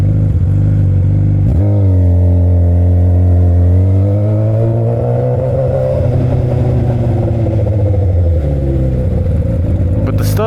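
A Yamaha R1 motorcycle engine judders under throttle on pull-away, a loud steady mechanical drone with shifting pitch and a rough pulsing edge, heard close up over wind.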